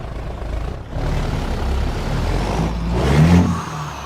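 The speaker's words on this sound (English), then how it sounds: "I love this engine sound." A custom long, lowered truck chassis in American Truck Simulator rumbles with a deep, steady engine drone that builds into a louder rev with a hissing burst near the end.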